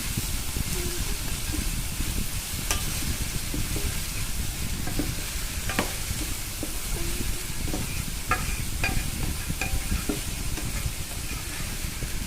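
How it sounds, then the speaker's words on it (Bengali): Okra frying with dried chilies in a pan, stirred by hand: a continuous close sizzle with scattered scraping clicks from the spoon, loud and steady throughout with no talking. "কিছুক্ষণের জন্য নেড়ে চেড়ে ঢাকনা দিয়ে রাখবো"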